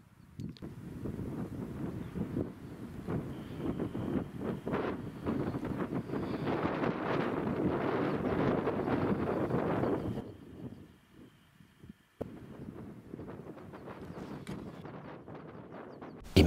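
Strong wind buffets the microphone on the open high plateaus of the Vercors mountains, a loud gusting roar that drops away briefly near the end before returning steadily.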